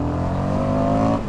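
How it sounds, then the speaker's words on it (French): An Indian FTR 1200 motorcycle engine revs up close and loud in one brief, steady, rising surge with a strong low rumble, no talking. "Petite accélération pour voir."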